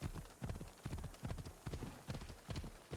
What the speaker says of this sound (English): see there, I said that, and now the horse is sped up